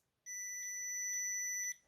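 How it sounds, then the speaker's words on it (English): A multimeter on its continuity setting gives one steady, high-pitched electronic beep lasting about a second and a half, clear and alone against near silence. "we're gonna set it here to this symbol here, which begins to beep"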